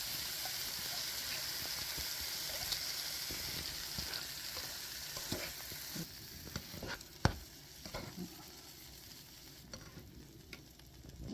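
Sardines frying with tomato in a pan, a steady close sizzle with stirring scrapes and occasional sharp clacks of a utensil against the pan.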